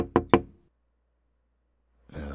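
Two sharp knocks on a door heard up close indoors, quick and evenly spaced, followed by silence and then a brief burst of rustling at the end.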